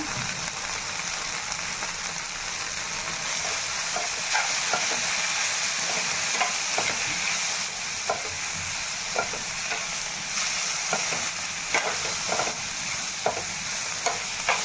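Turmeric and cumin frying in a pan give a steady, bright sizzling hiss throughout, with soft clicks from stirring scattered across the span; close and moderately loud, with no talk.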